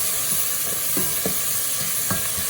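Onions fry in a pan for a seer fish curry, a steady bright sizzle with a few soft scraping stirs of a spoon, close and continuous.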